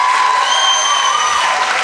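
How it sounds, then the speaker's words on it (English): Applause for a winning school band at a show, a dense wash of clapping from a crowd, steady and loud throughout, with a few whistles or cheers over it. "Everybody give them a round of applause."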